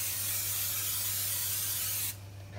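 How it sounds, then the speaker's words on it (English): Canola oil cooking spray hisses onto pans in one long, steady, close spray that cuts off near the end, leaving quieter room noise. "Get those pans all sprayed up."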